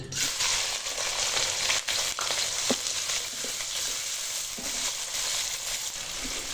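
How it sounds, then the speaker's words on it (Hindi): Sliced onion fries in a kadai of hot ghee, a continuous close hissing sizzle with faint crackles and occasional stirring scrapes and no talking. "घी गर्म हो चुका है, इसमें 1 स्लाइस में कटा हुआ प्याज शामिल करेंगे।"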